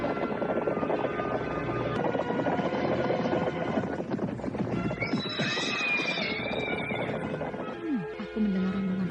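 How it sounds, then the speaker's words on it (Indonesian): Many horses from a mounted troop pass by in a drama scene, a dense continuous rumble with whinnies and hoof clatter, loud and sustained throughout, with no talk. "aku mendengar ratusan ekor kuda melintas"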